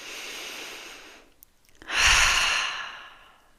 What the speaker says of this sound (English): taking a breath.